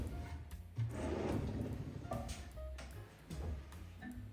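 Built-in drawers in a luxury home being pulled open and pushed shut, several soft wooden slides and muted thumps spaced across a quiet room, with no talking.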